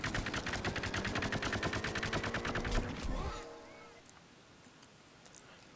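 Rapid continuous gunfire from a weapon in the shooter game Plants vs Zombies Garden Warfare, a loud sustained burst for about three seconds that cuts off, leaving a quieter game background with occasional small sounds.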